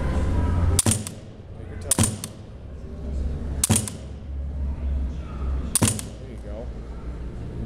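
Four sharp rifle shots fired at pop-up targets on a range, spaced about one to two seconds apart, each a loud crack with a brief echo over a low wind-like background rumble.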